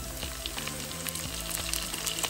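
Chopped garlic and onions frying in a pan, a steady dense sizzle and crackle, close and continuous throughout.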